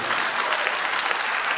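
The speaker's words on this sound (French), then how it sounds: "Applaudissez le Seigneur." A church congregation at a Mass applauds, a short burst of dense, steady clapping from many hands with no voices over it.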